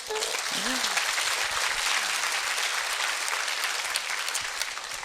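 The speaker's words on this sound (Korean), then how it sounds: "여러분들이 좀 이렇게 격려의 박수를 해주셔야 돼요." Audience applause at a seminar speech, a dense, steady wash of clapping lasting the whole stretch at moderate loudness, with a brief voice fragment near the start.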